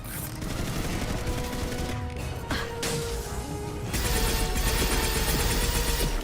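Rapid gunfire bursts in Mass Effect Legendary Edition combat, dense and continuous over a busy game soundscape, growing louder and heavier in the second half.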